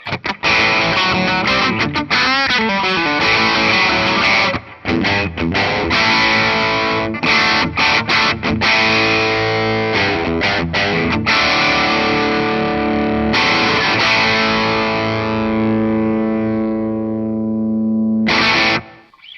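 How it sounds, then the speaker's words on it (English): Epiphone 150th Anniversary Zephyr DeLuxe Regent electric guitar: loud, heavily distorted chords played continuously, thick and saturated, with a final chord ringing out before a brief last strum. "Now, how does it handle distortion?"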